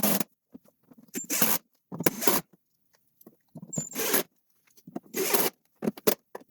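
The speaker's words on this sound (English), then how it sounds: "We'll take some 2-inch screws. And we're just going to drive them home." A driver sinks 2-inch screws into a wooden support for a floating mantel, giving five or six loud, short whirring bursts separated by brief pauses, with no talking.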